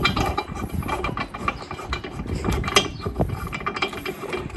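A ratchet with a 19 mm socket turns a spare tire bolt, giving a steady run of close clicking ratcheting strokes with no voices.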